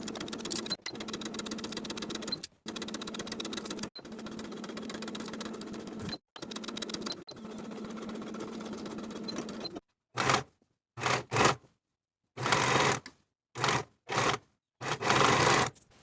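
A sewing machine stitches a sleeve into a dress armhole with a 5/8 inch seam, running in a steady whirring hum broken by brief stops, then finishing in short separate bursts.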